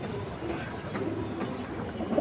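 Pigeons coo softly in a low, murmuring rumble amid faint background noise, with no clear individual calls standing out.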